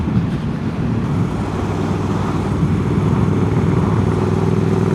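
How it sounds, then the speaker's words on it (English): A Triumph Speed Triple 1200 RS motorcycle with a Hitchcocks exhaust runs with a steady, loud, close engine drone and road and wind noise, with no clear revving. "Yeah, little Hitchcock's exhaust sound good."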